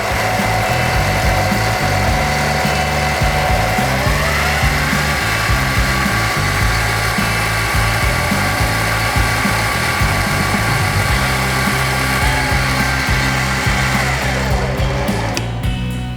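A metal lathe takes a half-millimetre cut, giving a loud, steady mechanical whine and grinding drone with shifting tonal bands, continuous and close throughout.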